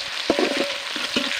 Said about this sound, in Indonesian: Langsung aja kita goreng yuk.